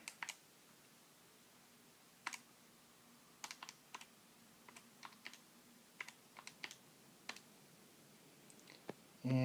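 Close, crisp keyboard taps as a calculation is typed into a calculator or computer, sparse irregular clicks and short bursts spread across a quiet background, with a brief louder knock at the end.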